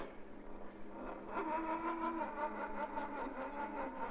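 RC comp-rig crawler truck climbing through a rocky canyon at a reservoir, its electric motor rising into a steady whine with layered harmonics after a quiet start, heard up close over faint outdoor ambience.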